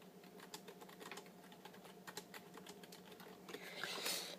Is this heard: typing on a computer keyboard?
yes